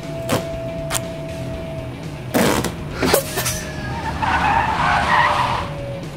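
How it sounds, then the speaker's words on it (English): A truck's active brake assist makes a hard stop with a rushing, scraping braking noise and sharp bursts of air release. A hissing roar swells near the end over the steady cab rumble, with no talking. "the active brake assist system kicked in as it's designed to do and attempted to stop the truck"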